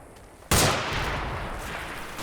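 Sniper fire in the Combat Mission: Black Sea war game: silence broken by one sharp, loud rifle crack that leaves a long decaying echo rumbling on to the end.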